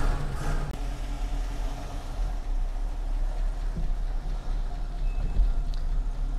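A 1967 California Mustang driven onto a car lift, its engine running as a steady low rumble with faint mechanical clunks, close by and constant with no voices.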